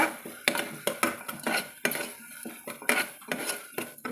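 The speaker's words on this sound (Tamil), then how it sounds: "இந்த ஸ்டேஜில் வந்து நம்ம பாசி பயிரை கூட சேர்த்துக்கலாங்க சேர்த்து கலந்து விட்டுக்கலாங்க" Green gram being stirred into a soft tomato masala in a pot, a spoon clanking and scraping against the metal in repeated rhythmic strokes, close and fairly loud with no talking.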